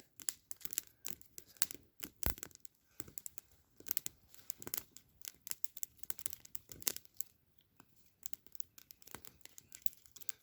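A knife cuts a notch around the side of a wooden tripod pole, giving a quiet run of short, scratchy, tearing strokes in uneven bursts with brief pauses between them, close by and with no talking.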